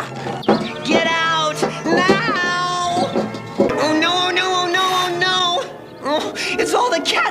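Cartoon cat meowing and yowling in long, wavering, drawn-out cries, loud and close, one wail running into the next with brief breaks between them.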